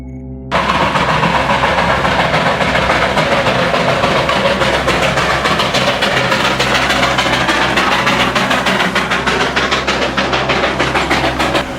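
Two Darjeeling toy trains pull in at Batasia Loop, a loud, continuous rumble of engine and rolling wheels with rhythmic clatter, sustained close by throughout without talk.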